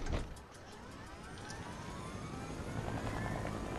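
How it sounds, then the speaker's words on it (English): Helicopter in Fortnite flying steadily close by, a continuous rotor and engine drone holding level throughout with no talk over it. "Took that helicopter."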